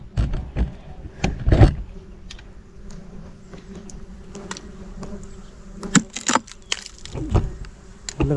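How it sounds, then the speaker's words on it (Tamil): A swarm of stingless mosquito bees, stirred up at a wild honey nest during honey hunting, buzzes close by, mixed with sharp clicks, taps and rustling handling noises. "கொசு பார்த்தீங்கன்னா கலைஞ்சிருச்சு"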